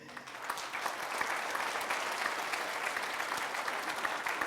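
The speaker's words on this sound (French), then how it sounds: "ainsi que Paul et Caroline Scotti, qu'on peut applaudir" Audience applause at a New Year wishes ceremony honoring gold medal recipients, a dense steady clapping from a hall crowd that carries on evenly throughout.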